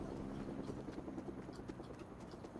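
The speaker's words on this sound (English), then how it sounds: "Helicopter." Helicopter in the video game Fortnite, a steady rhythmic chopping rotor drone that fills the whole stretch at constant loudness, with no talking over it.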